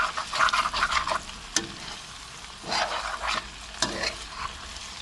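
Fried potatoes sizzle and scrape steadily in a hot pan as they are gently turned, with brief louder stirring bursts recurring throughout and no talking.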